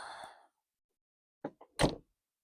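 Door of a Rolls Royce Silver Spirit being shut after a sticking latch was freed with brake cleaner: a soft click and then a solid, close thunk after a brief silence.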